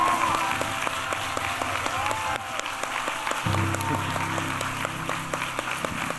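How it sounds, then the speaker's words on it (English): A Creative Mornings audience gives a lecture speaker a warm round of applause, sustained crowd clapping up close, with a low steady droning tone entering partway through beneath the claps. "give this man a rock star round of applause"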